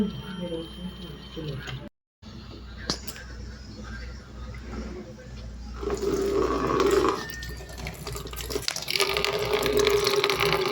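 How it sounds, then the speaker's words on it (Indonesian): Water gushing from a tap opened by a servo motor into a storage container in a water turbidity detection system; a brief cut, then a rising, continuous splashing flow that grows louder, with a voice speaking in the background. "Servo 1 telah berputar untuk membuka keran air, dan air akan langsung dialirkan ke penampungan ketiga"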